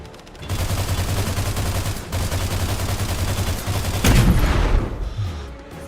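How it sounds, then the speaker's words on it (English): A rapid, steady hail of incoming gunfire in the game Angels Fall First, loud and continuous over a low engine drone, swelling into a heavier burst near the end before fading. "Oh, we're taking fire. Taking fire."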